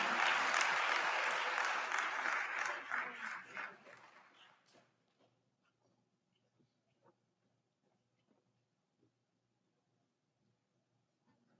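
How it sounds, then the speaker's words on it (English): An audience applauding a keynote speaker at a technology incubator event, hearty clapping that fades out over a few seconds into near silence with a few faint taps. "Je vous demande encore une fois d'applaudir notre keynote speaker du jour"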